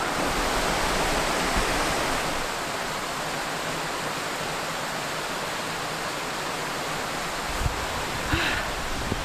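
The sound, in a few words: waterfall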